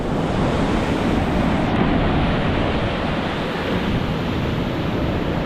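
Surf from big ocean waves breaking on the main beach at Phu Quoc, Vietnam, in the off-season: a loud, continuous broadband roar of crashing water, steady throughout with some wind buffeting the microphone.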